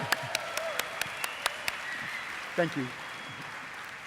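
Applause at a lecture on essential oils: a string of distinct, evenly spaced claps that fades out after about two seconds, followed by a brief spoken thanks.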